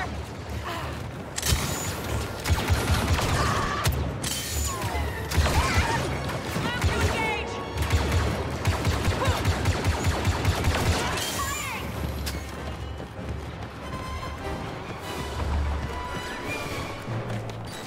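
Blaster gunfire in the Star Wars Battlefront II video game, rapid volleys of shots and booms layered over dense battle effects and music, with voices speaking at times.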